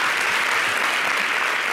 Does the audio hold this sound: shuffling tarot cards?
no